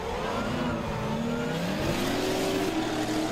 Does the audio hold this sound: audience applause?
no